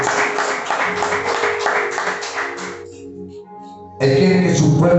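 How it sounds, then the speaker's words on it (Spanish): A church congregation claps together in a sustained, steady burst of applause, then the clapping fades into quieter sound before a loud swell of clapping and cheering returns at the end. "Démosle ese fuerte aplauso al Rey de Reyes y Señor de Señores."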